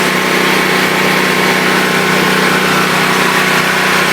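A Predator portable generator running steadily, its small engine giving a loud, constant drone close by with no change in pace.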